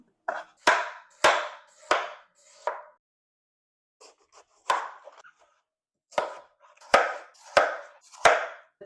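A knife chops through watermelon with the rind still on, giving a run of sharp, close thuds in uneven clusters with brief pauses between them, with no voices.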